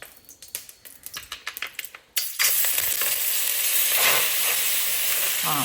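Banana pieces dropped into hot ghee in a pan start a loud, continuous close sizzle after a run of light clicking stirs. The frying hiss holds steady with occasional spoon scrapes.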